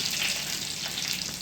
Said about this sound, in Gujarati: રાઈ મૂકી અને મરચાં નાખ્યા.